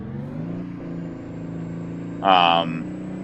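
A custom Peterbilt truck engine in American Truck Simulator drones at a steady low pitch, then rises briefly in a short rev, with someone talking over it.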